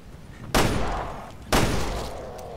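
Two sharp, loud gunshots about a second apart ring out in Resident Evil Revelations 2, each a sudden blast trailing off into a short decaying echo, with no talk over them.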